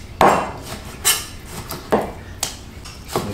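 A knife chops chicken thigh meat into large chunks on a wooden cutting board, about six firm thunks at an uneven pace, close and clear with no talking.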